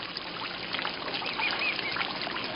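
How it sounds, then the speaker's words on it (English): Birds and running water in a rainforest: a continuous hiss of flowing water with faint bird calls and chirps scattered over it, steady and moderately loud throughout. "I hear the water. I hear the birds."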